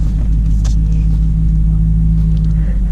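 Ford 6.7 Powerstroke diesel truck with a non-VGT turbo, heard as a loud, steady, deep idling rumble close by, with a constant low drone and no talk over it.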